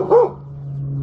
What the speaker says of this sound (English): I had to get rid of my dog for a second there. He wanted to bark at the neighbors.